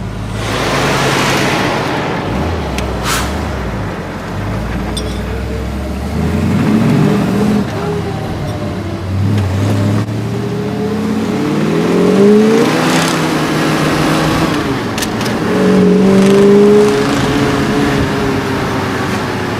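A 1965 Ford Galaxie driving and accelerating, engine rumble swelling through several revving pulls with rising tones, heard close from inside or near the car, no talking.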